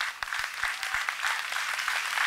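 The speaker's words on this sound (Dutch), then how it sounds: "Ik wil jullie vragen om in ieder geval het orkest alvast een warm applaus te geven." An open-air crowd at an outdoor summer concert on a city square gives the Sinfonia Rotterdam orchestra a warm round of applause, a continuous wash of clapping with a few distinct claps nearby.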